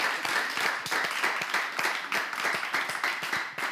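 An audience at a live show applauds with brisk, dense clapping that stays loud and close for the whole stretch.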